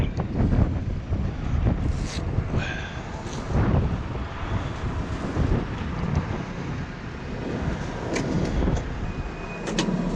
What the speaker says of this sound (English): Certainly blowy today.